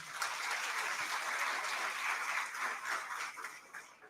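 An audience claps at a youth parliament debate on women's participation in politics and social work, a steady, faint wash of many hands with no voices over it.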